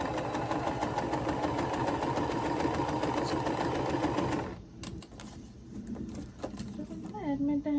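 A sewing machine stitching quilt block seams, running with a steady mechanical whir and rapid needle chatter under a talking voice, then stopping as the room goes quieter with faint music.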